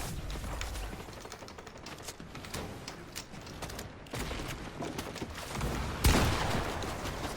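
Rapid gunfire bursts in a first-person shooter video game, dense and continuous with sharp louder shots near the end, no talking over it.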